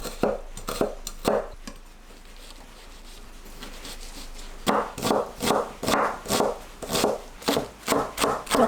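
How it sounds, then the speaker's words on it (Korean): A knife minces onion on a cutting board while vegetables are prepped for an eggplant dish. A few scattered taps come first, then a close, steady run of rhythmic chopping strikes at an even pace. "양파를 다집니다."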